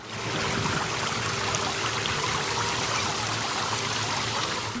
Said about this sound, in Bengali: চমৎকার কৃত্রিম ঝর্ণা পানির ফোয়ারা